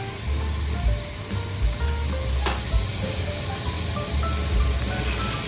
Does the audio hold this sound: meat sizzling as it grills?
yes